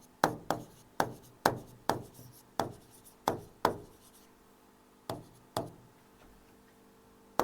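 Writing on a board during a classroom lesson: a quick series of about a dozen crisp taps and strokes in an uneven rhythm, close and fairly loud, with a short pause partway through.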